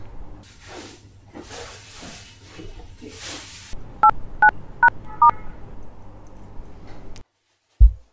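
A phone number is dialed with four crisp, evenly spaced touch-tone beeps, preceded by a hissy, breathy stretch and followed by a short pause and a brief thump.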